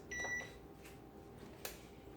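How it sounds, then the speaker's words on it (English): A short, faint electronic beep from an oven timer sounds early, and a soft clatter follows later in a quiet room. "And there the buzzer is."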